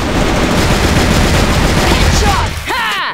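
Rapid automatic gunfire rattles loudly and continuously in a shooter video game, a dense burst that fades near the end as a voice briefly shouts over it.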